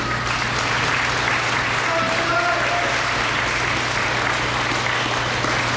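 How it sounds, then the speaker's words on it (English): Continuous applause from an audience at an EMS graduation ceremony, a dense, even wash of clapping heard alone for the whole stretch. "Keep that applause coming."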